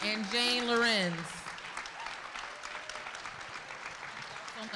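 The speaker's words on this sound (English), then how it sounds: "I want you guys to give a big hearty round of applause." An audience at a corporate annual awards ceremony breaks into applause just after someone speaks over a microphone, the dense clapping continuing at moderate volume to the end.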